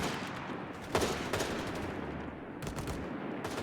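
Grenadier rifle and machine-gun fire in the Company of Heroes 3 strategy game, a quiet stretch of rapid distant shots and bursts with a couple of sharper cracks, no voices.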